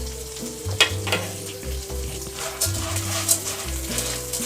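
Popcorn kernels cooking in oil on a medium flame produce a steady, close frying sizzle with occasional stirring scrapes, and no one talks.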